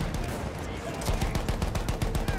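Rapid bursts of gunfire in the World War I shooter Battlefield 1, dense repeated shots and booms filling the scene, loud and continuous throughout.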